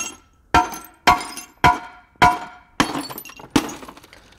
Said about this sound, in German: Ich mache es nochmal ganz auseinander, dass wir mal vorne das Glas sehen, wie dick das Glas ist.